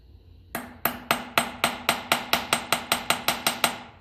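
A hammer taps a screwdriver to loosen seized threads in the cooling and fuel system of a 1954 Ferguson TE-20 diesel tractor, fourteen sharp metallic strikes in quick even rhythm, close and alone.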